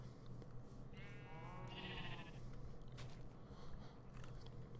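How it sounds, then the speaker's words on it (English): Sheep bleating inside a wool-farming video game, a clear wavering bleat rising over a steady background game noise, heard once near the middle with no talking. "Let's go find another sheep."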